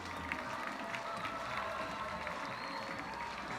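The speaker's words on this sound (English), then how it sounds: "Hawaii, let's give them another cheer" An audience at the closing ceremony of the 11th Festival of Pacific Arts applauds and cheers, with scattered claps and voices forming a soft, distant wash.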